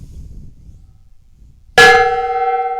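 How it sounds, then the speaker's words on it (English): A metal gong in a workshop is struck once, a loud sudden clang that rings on with a sustained, slowly wavering tone after a quiet lead-in. "So I hit the gong."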